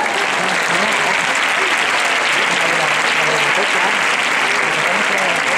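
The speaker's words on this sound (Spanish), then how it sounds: "Un aplauso fuerte para ella." A theatre audience applauds at a song contest gala, a dense steady wash of clapping filling the hall throughout, with a voice faintly underneath.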